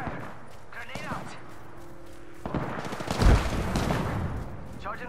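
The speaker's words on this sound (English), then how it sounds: "Taking fire." Gunfire in the video game Apex Legends, bursts of shots and an impact boom mixed with in-game voice callouts and background battle noise.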